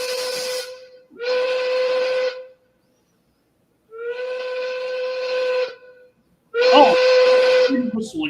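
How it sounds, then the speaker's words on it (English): A steam locomotive whistle sounds three times in long, loud, steady blasts separated by short silences, with a hissing edge at the start of each blast. "Oh, whistle again."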